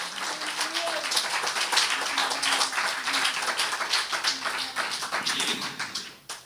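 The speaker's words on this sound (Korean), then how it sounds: "우리 하나님께 영광의 박수 한번 올립시다." A church congregation at a Korean worship service claps together, a dense run of hand claps that fades out at the end.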